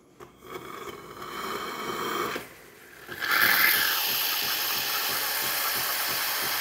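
A Gaggia Anima Prestige espresso machine runs with a steady mechanical whir and hum, a brief dip partway through before it resumes louder and continues steadily, close and fairly loud, no talking.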